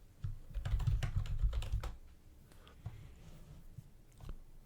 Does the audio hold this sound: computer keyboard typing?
yes